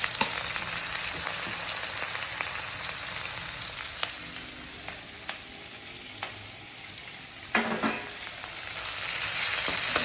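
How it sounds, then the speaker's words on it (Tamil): Onion sizzles and fries in hot oil with browned urad dal and chana dal, for godhumai rava upma. A steady, loud hiss runs throughout, broken by occasional scraping stir strokes and no talk. "வெங்காயம் போட்டு கொஞ்சமாக வதக்கணும்."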